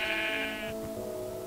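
A sheep in Minecraft lets out a single wavering bleat, loud and close, with no talk over it.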